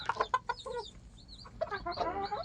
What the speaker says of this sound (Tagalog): Ito po yung manok na laging tumatawa-kawaka